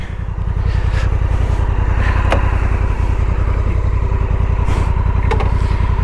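A Honda motorcycle engine runs steadily under way while being ridden, a close, loud and even pulsing drone with no talk over it.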